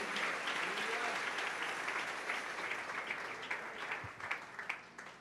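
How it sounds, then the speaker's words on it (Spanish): A congregation claps and applauds during an evening church service, a steady wash of many hands at moderate distance that holds for several seconds and thins slightly toward the end. "Dale ese aplauso al Rey en esta preciosa y gloriosa noche."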